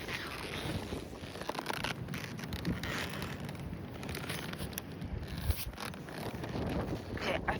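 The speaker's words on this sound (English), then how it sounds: "It's a windy day." Strong wind gusting outdoors on a windy day during a horse ride, steady broadband rushing with buffeting bursts against the microphone throughout, close and loud with no clear talk.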